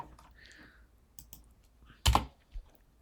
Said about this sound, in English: I'll press 7 from the keyboard, and then from the keyboard it's a Shift and then G